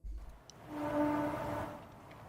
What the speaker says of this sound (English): That's just a train.